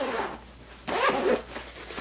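Zipper on a sewn packing cube made of 400 denier pack cloth being pulled, a brief soft rasp followed by a louder, longer zip near the middle, then a short tail of rasping.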